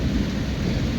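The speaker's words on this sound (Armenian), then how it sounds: "Ամբը գոռում է" A low rumble of thunder rolls through a brief moment of steady rain, dense and close, with no voices.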